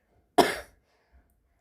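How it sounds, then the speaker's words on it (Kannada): A single sharp cough from a stressed adult man, close and fairly loud, followed by a quiet pause and the start of a second cough. "ಒಮ್ಮೆ ಮಾತಾಡ್ಬೇಕಾದ್ರೆ ಕೆಮ್ಮು ಎದೆಗೆ ಬಂದಂಗೆ ಆಗ್ಬಿಡ್ತೈತ್ರಿ"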